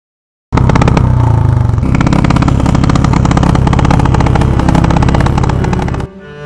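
An old Royal Enfield motorcycle that is giving mechanical trouble runs loud and close for about six seconds, with a steady thumping beat, then cuts off abruptly.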